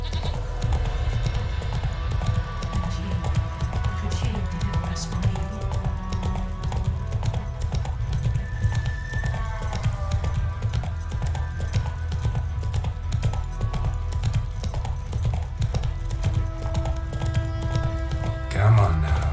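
Roach the horse galloping in The Witcher 3: a steady, continuous run of hoof clip-clops under game music and ambience, with voices speaking over it.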